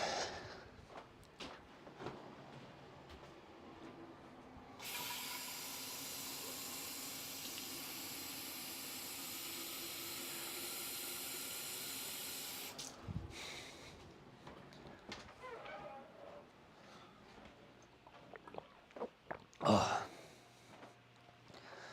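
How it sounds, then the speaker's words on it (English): Water running from a bathroom tap to fill a bottle, a steady loud hissing stream of about eight seconds with quieter handling noises and small bumps before and after. "I'm just filling up my water."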